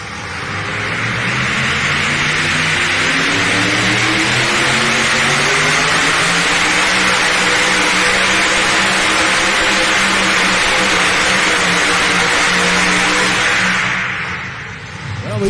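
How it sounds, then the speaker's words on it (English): A super modified four-wheel drive pulling truck revs hard and holds a roaring, high-pitched engine note at a truck and tractor pull, loud and close for about fourteen seconds, its pitch rising and wavering before dropping away at the end. "These super modified four-wheel drives have figured this thing out here tonight."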